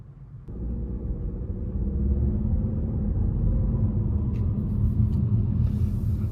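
The 1.5 turbo four-cylinder of a 2023 Chevy Malibu 2LT restarts after an auto stop: near-silence breaks into a sudden low rumble that settles into a steady idle, heard from inside the car.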